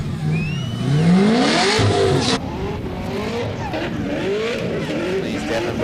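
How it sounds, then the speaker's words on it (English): Supercharged LS-powered Nissan S15 drift car warming its tyres at a drift event, engine revving and rising through bursts with tyre squeal and skidding, loud and close, with commentators talking over it. "Warming up the tyres a bit."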